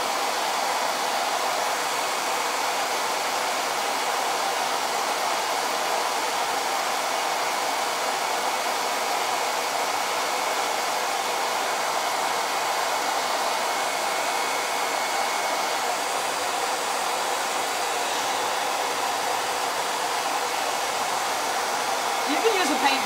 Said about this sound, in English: The new quick dry tool is really, really quiet.